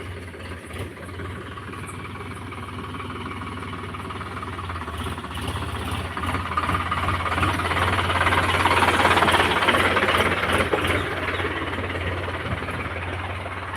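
A farm vehicle's engine drones steadily while it heads out to plough a field for cassava, a broad rumbling hum that swells louder toward the middle and then eases slightly, with no voices over it.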